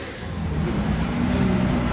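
A Ferrari 812 GTS engine drones steadily, a low rumbling hum that swells slightly louder over two seconds, with no voices.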